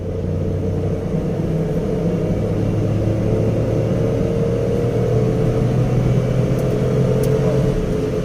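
Small Maruti Suzuki A-Star hatchback pulling hard in third gear, its engine a sustained low drone and rumble with a rising whir, steady and close throughout with no talking.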